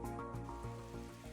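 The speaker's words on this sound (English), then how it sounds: "Rain." Rain falls in the racing management video game Golden Lap, a faint patter that sits under a low, sustained musical drone with soft rhythmic pulses.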